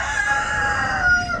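Chickens cluck and murmur continuously in a barn, a close, steady chorus of hen vocalizations with no talking.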